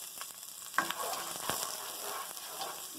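Onion sautés in a little olive oil in a pan as a quiet, steady sizzle, with a few soft clicks and stirring scrapes close by.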